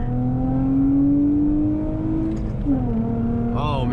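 Acura TL fitted with a short shifter and new bushings accelerating hard in second gear, a steady rising engine drone with a brief dip at the upshift near the end, heard from inside the cabin.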